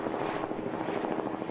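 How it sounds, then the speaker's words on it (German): Police helicopters circle overhead, a steady, loud rotor and engine drone that fills the scene without break and with no voices. "Hubschrauber kreisen bereits über dem Versteck."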